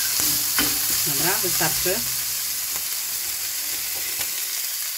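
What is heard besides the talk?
bacon and garlic frying in a pan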